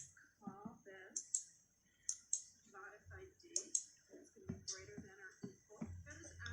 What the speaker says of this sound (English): now we're going to click on Save to save our process